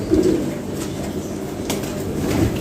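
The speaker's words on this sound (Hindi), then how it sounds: "कबूतर बाहर आके फिर अंदर जा रहे हैं, अंदर बाहर हो रहे हैं ना" Pigeons coo in low, continuous murmurs close to their cage, with a soft flutter of wings mixed in.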